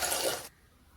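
Water poured into an uruli, a traditional bell-metal pot, set on a stove for Kerala palpayasam, a short splashing gush lasting about half a second that then stops abruptly.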